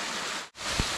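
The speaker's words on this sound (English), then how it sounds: "Check out the waterfall." A waterfall on the Appalachian Trail gives a steady broadband rushing roar, close and continuous apart from one abrupt momentary dropout.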